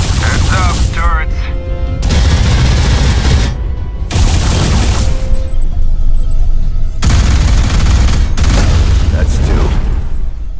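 Defense turrets in the shooter game Alien Rage open fire in loud, sustained bursts of gunfire with booming impacts, broken by short gaps, while voices talk over the action.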